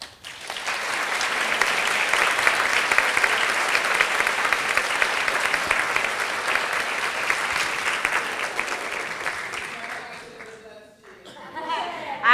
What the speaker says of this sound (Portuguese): uma salva de palmas a todas e todos.